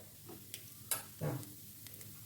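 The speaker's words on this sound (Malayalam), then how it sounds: "ഉഴുന്നും പൊട്ടി വരുന്നുണ്ട്." Urad dal sizzles and crackles in hot oil in a pan with mustard seeds, for a taro leaf thoran; faint frying hiss with a few sharp scattered pops.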